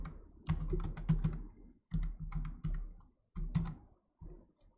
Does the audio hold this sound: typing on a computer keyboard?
yes